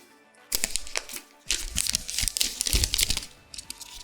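Packaging being torn open and crinkled while unwrapping a Microsoft Surface Duo, with close, loud bursts of tearing and crumpling plastic or paper after a quiet start and a brief pause.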